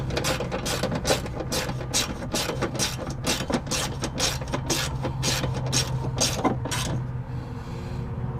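A ratchet fitted with a 12 mm socket tightens the battery terminal bolt on a Toyota Tundra truck, giving a rapid, steady run of close, sharp clicks that stops abruptly near the end, with no talking.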